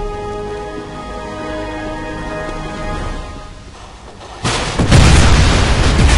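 A low sustained hum gives way to a sudden loud blast in the video game Wolfenstein, followed by a roaring, crackling rumble that continues to the end.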